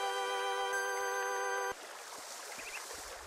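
An electronic ringtone in Paper Mario: The Thousand-Year Door chimes steadily for a moment, then cuts off abruptly, leaving a soft watery ambience behind.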